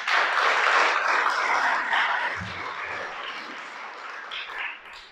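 A congregation at a Shabbat service breaking into applause, a dense burst of clapping that starts strong and gradually thins and fades over several seconds.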